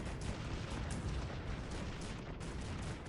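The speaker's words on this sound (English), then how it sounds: "My artillery is pounding the hill from all sides." Artillery cannons firing in a Cossacks 3 strategy battle, a dense, continuous rumble of booms and bursts layered loudly over one another for the whole stretch, with no voice on top.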